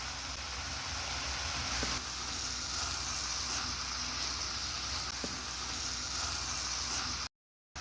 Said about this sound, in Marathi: मीठ टाकून आपल्याला छान असं हलवून घ्यायचं आहे